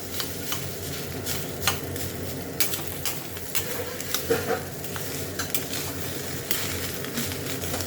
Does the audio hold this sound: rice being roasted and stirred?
yes